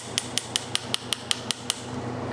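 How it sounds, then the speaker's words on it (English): A small hammer seats the handle on a tanto knife with about nine light, evenly spaced metallic taps over a steady background hum. "I need to give it a couple hammer taps to"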